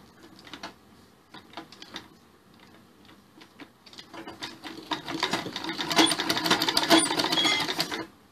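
A sewing machine stitches sherwani fabric with piping. Scattered ticks and handling noise come first, then a steady, fast, rhythmic run of stitching builds up close by and grows louder over the last few seconds.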